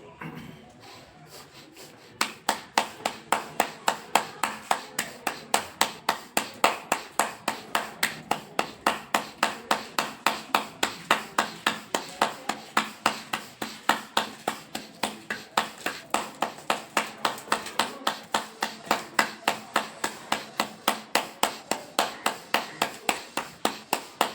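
Steady rhythmic hand clapping during a clapping yoga routine, a quick even train of sharp claps that runs nearly continuously at a close, moderate level after a brief quieter opening.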